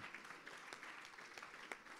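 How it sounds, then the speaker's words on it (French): Applause from the audience at a high-level ministerial panel on heritage mobility, a soft, fairly distant patter of clapping with a few louder individual claps, continuing steadily without talk. "je crois qu'on doit vous applaudir pour ce que vous avez dit encore aujourd'hui"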